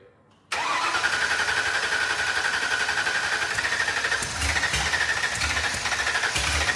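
A Shelby Daytona car, revived after sitting for years, cranks and fires up abruptly, then holds a loud, steady engine roar close by, with a few faint knocks and clunks toward the end.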